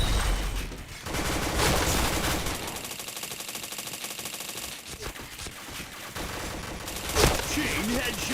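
Rapid video-game gunfire bursts crackle in dense, loud volleys with sharp single shots between, while a player talks excitedly over the action.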